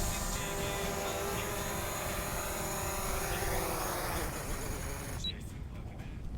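A DJI Mavic Pro drone comes down to land, its propellers whining in a steady, close, high-pitched buzz that cuts off abruptly near the end, leaving a quieter background.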